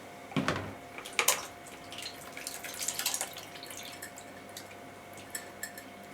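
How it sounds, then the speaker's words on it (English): Kefir milk being strained through a colander, close splashing and dripping with a couple of sharp liquid spatters early on, then a softer trickle of drips tapering off over several seconds. "So we'll strain this off."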